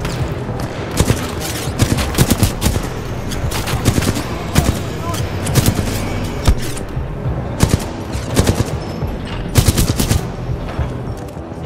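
Gunfire in the video game Titanfall 2, rapid bursts of shots and sharp cracks repeating over nearly twelve seconds, loud against a constant game background.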